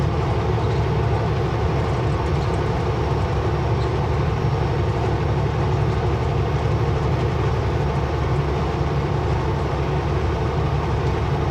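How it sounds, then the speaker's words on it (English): A short northbound freight train hauling concrete railroad ties rolls past near Kamloops, a loud, continuous low rumble and rattle of wagons on rail, steady and close with no pauses. "There's a northbound train on the other side."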